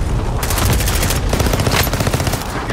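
Gunfire in the Call of Duty video game: loud, close bursts of rapid automatic shots crackle almost continuously, with brief gaps between volleys and no talking.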